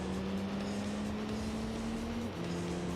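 BMW Z4 engine in Gran Turismo 3 racing game, a steady close droning hum that holds one pitch and then drops abruptly near the end as if shifting gear, with no talk.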